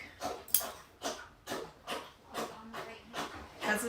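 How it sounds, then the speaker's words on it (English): A big dog laps up water in a steady rhythm of about eight wet, splashy laps, close and moderately loud. "that's the big dog drinking, if you guys can hear that happening."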